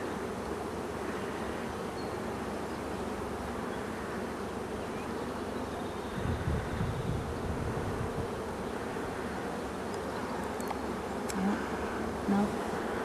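Dense, steady buzzing of a newly installed package of about 5,000 honeybees fills the clip, a continuous close-up drone with no talk.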